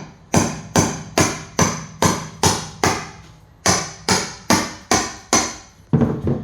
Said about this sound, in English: I'm going to use this chisel and just kind of get it on the edge there.